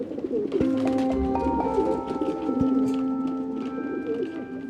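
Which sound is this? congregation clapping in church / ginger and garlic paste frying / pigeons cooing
pigeons cooing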